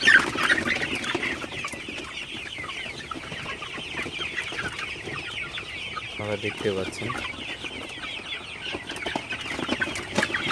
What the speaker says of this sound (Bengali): মুরগিগুলাকে রাতের বেলা একটু তাড়াই দিই, কারণ মুরগিগুলা রাতের বেলায় কিন্তু একটু বসে থাকে বেশি